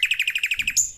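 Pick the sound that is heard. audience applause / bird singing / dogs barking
bird singing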